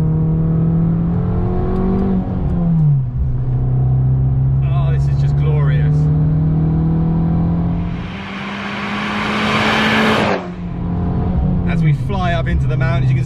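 An Abarth 695 70th Anniversario drives an empty morning road toward the mountains, its engine droning steadily from inside the car with gear changes and a rising rush of revs midway, while someone talks over it.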